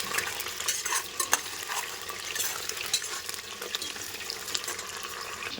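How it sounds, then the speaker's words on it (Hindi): Steady crackling sizzle of potatoes frying in hot oil, with occasional stirring scrapes and clinks, close and continuous throughout. "आलू भाजा"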